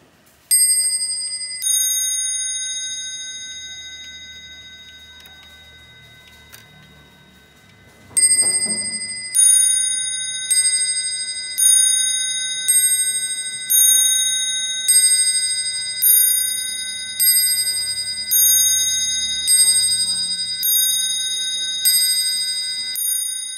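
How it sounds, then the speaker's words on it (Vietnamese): An antique clock strikes its two bowl bells in a bright bing-bong pattern, first a few tones, then a long run of evenly spaced, ringing strikes that each decay slowly, close and clear in a quiet room. "Cái này nó đánh bing bong bởi vì nó có hai chuông các anh."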